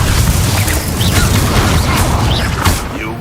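A fire spell cast in combat in the video game Hogwarts Legacy, heard as a loud, dense whooshing burst with a low rumble, continuous booming crackle and scattered bright flares throughout.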